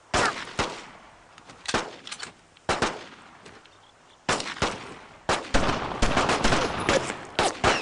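Gunfire in the WWII shooter Brothers in Arms: Road to Hill 30 comes in loud, close bursts of rifle and machine-gun shots, separated by short lulls, then builds into a sustained, overlapping volley.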